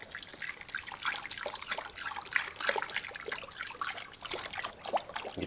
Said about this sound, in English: We're going to punch down the cap.